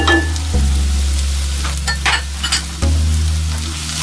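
Chilli powder and turmeric frying with ginger and garlic in hot oil, a loud continuous sizzle with stirring scrapes and a low hum from the stove, close up and free of talk.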